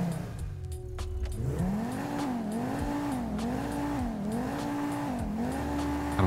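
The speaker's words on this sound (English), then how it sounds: "I don't know if it sounds like a V8 too much now." A V8 car engine in the video game GTA 5 revs in repeated rising and falling pulls, loud and close throughout, with a steady low engine drone and no talking over it.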